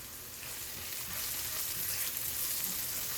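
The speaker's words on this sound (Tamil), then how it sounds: "வெங்காயம் நல்லா வதங்கிடுச்சுங்க" Onions sauté in a pan over a slow flame, giving a steady, close, broadband sizzle that holds evenly throughout with no talking.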